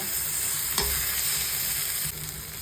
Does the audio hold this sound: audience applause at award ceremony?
no